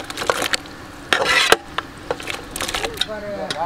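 Chicken pieces for green chilli chicken being stirred in a pan with a spoon, giving intermittent scraping clatters and soft sizzling bursts, close and moderately loud, mixed with brief handling noises.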